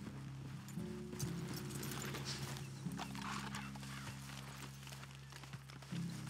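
Horses plod along in Red Dead Redemption 2 with a steady, quiet clip-clop of hooves and the low creak and jingle of tack, a faint rhythmic procession that runs through the whole stretch.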